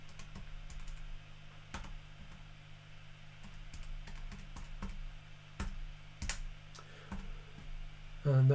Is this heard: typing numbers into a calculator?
yes